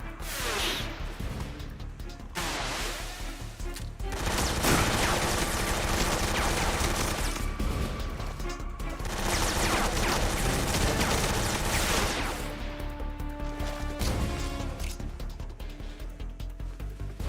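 Gunfire in Metal Gear Solid 3 crackles in dense, loud automatic bursts, interleaved with crashes and mechanical clatter, running almost continuously with short lulls and no talk over it.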